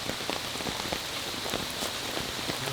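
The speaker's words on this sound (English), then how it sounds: "This rain is something else." Steady, dense rain pours down on a disc golf course, a continuous close hiss of drops hitting the ground and foliage with no pauses throughout.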